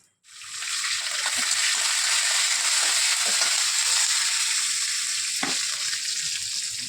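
Mustard seeds, asafoetida and dried chilies fry in hot oil with a loud, steady, close crackling sizzle that starts abruptly and runs throughout, with a few faint clinks.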